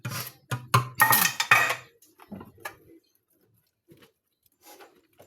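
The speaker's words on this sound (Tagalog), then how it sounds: "ang hugas ko plato guys" Dishes being washed by hand on a home terrace: a cluster of loud clinks and clatters of plates and utensils in the first two seconds, then sparse, fainter knocks and rattles with quiet gaps between.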